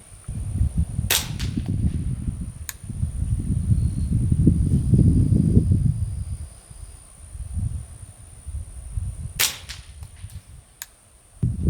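Two sharp, quiet cracks from a .22LR hunting rifle firing subsonic ammunition, spaced about eight seconds apart outdoors, with soft rustling and handling noise in between.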